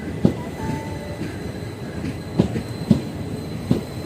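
A train pulls out of Mangalore Junction with rhythmic wheel clanks over rail joints, four sharp knocks spaced over a low steady rumble, heard alone without talk.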